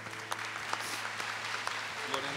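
Faint applause from a crowd, steady scattered clapping heard from a distance, with a soft murmur of voices underneath.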